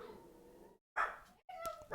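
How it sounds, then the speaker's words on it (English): A dog in a home barks several times, quiet and a little distant, in short separate yaps with brief silent gaps between them. "The dog's barking, sorry."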